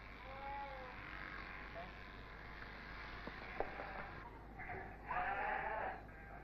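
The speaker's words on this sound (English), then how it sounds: "The other sheep wait for their turn." Faint sheep bleats rise over a low steady mains hum on a farm during shearing and wool preparation, a few wavering calls from a black-faced, white-fleeced breed, with soft voices in the background.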